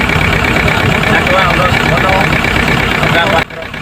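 The engine of a Kia Bongo 3 truck with fuel injector trouble cranks and churns continuously, struggling to start, a loud rough rumbling drone that drops off abruptly near the end.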